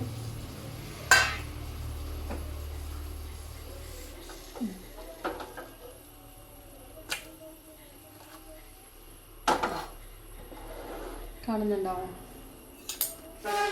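A plate is picked up and handled in a home kitchen, giving a few sharp clinks and scrapes scattered over several seconds, close and fairly quiet, mixed with softer rustling and handling noises.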